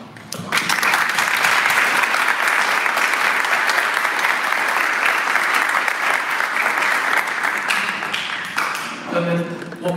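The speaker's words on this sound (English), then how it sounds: "So I think he deserves a different round of applause for that." Guests at a wedding reception in a barn venue break into sustained, loud applause lasting several seconds, then tapering off as a voice resumes speaking.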